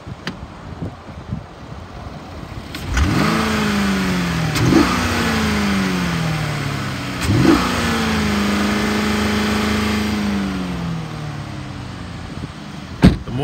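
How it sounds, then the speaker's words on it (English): A nearby 2013 Chevy Impala engine revs up several times, rising in pitch with each press and then settling, with no talking. "The motor revs up nice."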